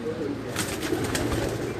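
Racing pigeons of the migratory kind, kept for flying tournaments, coo softly in a close, low, continuous murmur, with faint flutter and chirps mixed in.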